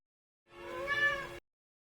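One clear, drawn-out cat meow from a movie scene, close and steady for about a second, standing alone against silence.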